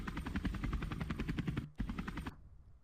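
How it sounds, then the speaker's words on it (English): Helicopter sound effect laid into an edit, a loud close rotor thump beating in a fast even rhythm, cutting out briefly, resuming, then stopping abruptly near the end. "We just want to take some helicopter sound effects, put them in"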